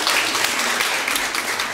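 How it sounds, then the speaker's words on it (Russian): A live audience at a Russian talk show bursts into steady, dense applause, many hands clapping together in a continuous roar for the whole short stretch. "Еще раз аплодисменты, дорогие друзья."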